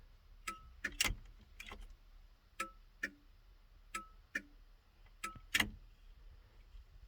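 A 1971 Datsun truck's turn signal clicks in an irregular series of sharp, quiet ticks over a faint idle hum.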